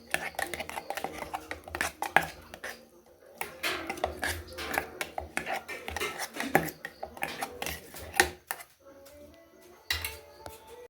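Banana mixture stirred with jaggery syrup in a metal pan, giving busy, irregular scraping and clinking of a spoon against the vessel, fairly close and continuous with short pauses.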